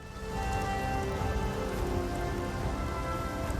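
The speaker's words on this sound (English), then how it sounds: "But I've already got a toxic rain." The toxic rain skill effect in the video game Path of Exile plays as a dense, steady patter of rain-like drops, loud and continuous from a quick onset with a faint tonal hum beneath, no talking.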